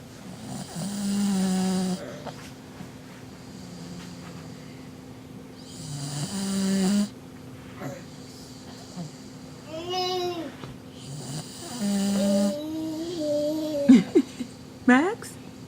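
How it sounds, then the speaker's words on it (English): A sleepy dog snores in a house in slow, regular rasping breaths, repeating about every five seconds, while a child babbles and people talk softly nearby. "he's really snoring"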